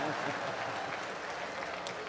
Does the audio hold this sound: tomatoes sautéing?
no